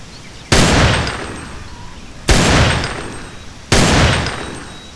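Three heavy Desert Eagle pistol shots from GTA San Andreas, each a loud sharp blast with a long decaying echo, spaced nearly two seconds apart with no voices.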